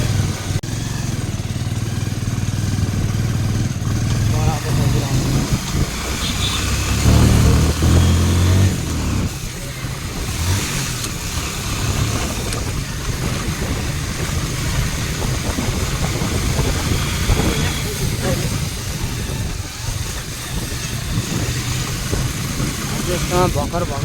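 A motorcycle on a market road, its engine running steadily with a low rumble and rising revs as it rides, heard close under ongoing conversation between riders.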